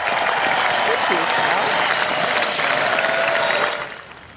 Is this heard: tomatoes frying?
no